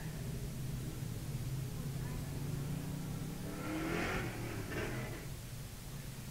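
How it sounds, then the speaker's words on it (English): Street stock race car accelerating during a heat race at Star Speedway, an engine drone rising in pitch at a distance, with a public-address voice talking over it midway. "Gordon Farnham back underway in the 46 car."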